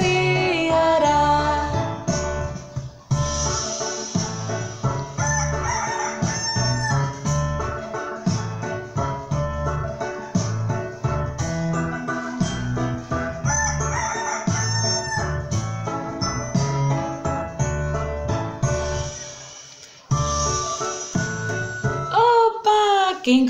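A rooster's cock-a-doodle-doo sounds within a children's song about a rooster, set over constant loud music with rhythmic accompaniment from start to end.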